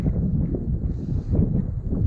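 Steady wind buffets the microphone in a low, rumbling roar on a windy day of shore fishing, gusting unevenly throughout with no voices.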